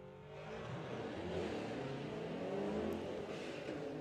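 The DHL-liveried Subaru drag racing car nicknamed Subtle Indifference launching off the line at a drag strip during the STP Summer Nationals, a steady, distant, fairly quiet engine roar that holds throughout without speech.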